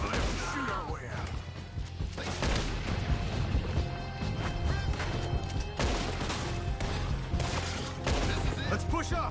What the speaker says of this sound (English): We'll have to shoot our way out.